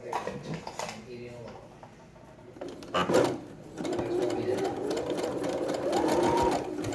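A Brother sewing machine stitches, first in short bursts and then in a steady, close whirring run that goes on for several seconds, with someone talking briefly at the start.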